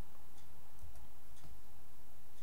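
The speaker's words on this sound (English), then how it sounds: "it can hear the ticking of the wall clock" A wall clock ticks steadily in a quiet room, its faint, regular clicks sitting over a constant hiss of background noise.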